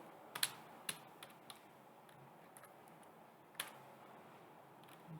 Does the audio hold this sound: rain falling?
no